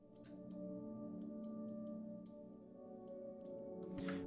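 Piano notes drenched in a lush, blurred convolution reverb from a Fruity Convolver preset, sustained harmonic tones smearing into a continuous wash with soft note onsets, steady and fairly quiet throughout.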